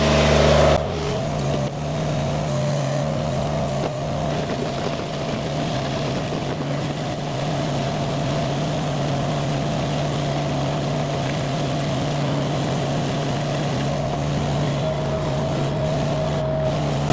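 A Chinese mini skid steer with a 4-in-1 bucket drives along a driveway, its small engine holding a steady, loud drone with a constant low hum throughout, with no talking.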